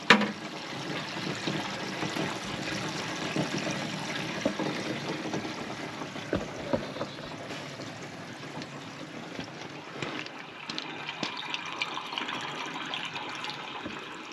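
Rainwater running into a waterer on a mobile chicken coop, a continuous trickling and splashing flow close by, with brief knocks and a shift in the water's tone near the end, no voices.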